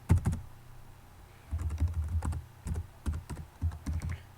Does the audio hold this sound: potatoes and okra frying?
no